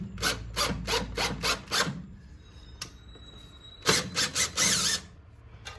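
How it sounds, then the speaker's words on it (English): A self-tapping screw is driven into a drilled hole in a bracket during a fuel kit install on a 1996 Ford F-250 OBS diesel truck, producing a quick run of rasping, grinding bursts, a pause, then another close cluster. "I'm just going to run a self-tap and go ahead and run it in here, make sure the threads are cut for it"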